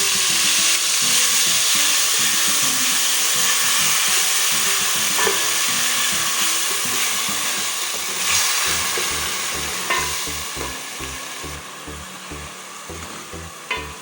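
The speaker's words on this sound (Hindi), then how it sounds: "प्याज़ों को हम तब तक पकाएंगे जब तक ये ब्राउन नहीं हो जाते।" Onions frying in a pan with chilli and spices for Lahori chana, a loud steady sizzle with stirring scrapes and knocks throughout, close, with no talk.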